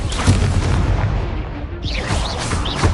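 In the Hogwarts Legacy video game, a Confringo blasting spell detonates as a loud, close burst of booming explosive noise with crackling debris, followed by whooshing magical effects in a dense, continuous game soundscape.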